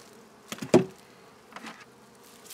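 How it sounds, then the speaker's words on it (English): Honeybees buzz around a beekeeper during a hive inspection, with a few brief, close buzzing passes and short clicks over quiet background, no speech. "Look at that bee. Yeah, they're already landing on you."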